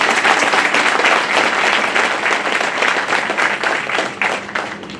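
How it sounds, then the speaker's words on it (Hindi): Loud, sustained applause from a large crowd welcoming a chairman at a public gathering, thick continuous clapping that stays strong throughout and tapers slightly near the end. "इसलिए जोरदार तालियों से चेयरमैन का स्वागत।"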